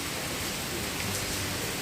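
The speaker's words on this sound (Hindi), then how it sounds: "बारिश बहुत अच्छी है और मौसम बहुत अच्छा हो रहा है" Steady rain falling outdoors during a pleasant monsoon spell, a soft continuous hiss with no breaks, moderately quiet and alone with no voices.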